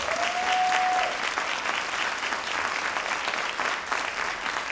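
An audience applauds warmly at a school celebration, with dense, sustained clapping that carries evenly throughout.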